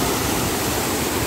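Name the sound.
Mangeli waterfall spray hitting the camera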